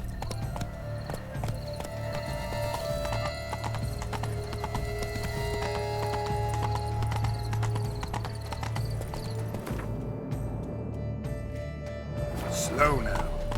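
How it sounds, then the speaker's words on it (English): Horse hooves clip-clopping at a steady trot in The Witcher 3 video game, with a rhythmic, close beat over a low ambient hum and a brief whinny near the end. "Be better off on horseback."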